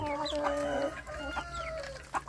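Young kampung chicken chicks feeding, giving a run of close, overlapping calls and clucks that rise and fall in short bursts.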